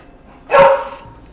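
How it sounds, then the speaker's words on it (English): A single sharp bark from a dog playing with a cat indoors, loud and close, then quiet. "That barking is the dog probably trying to play with one of the cats."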